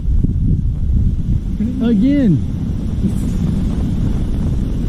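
Steady wind roaring and buffeting a microphone up close during Typhoon Khanun on Mount Inasayama, Japan, with a brief voice speaking partway through.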